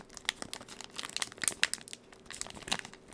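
Close, quiet ASMR crinkling and tapping on a snack package from an Asian market, a run of sharp crackly bursts and light taps spread irregularly over a few seconds with no talking.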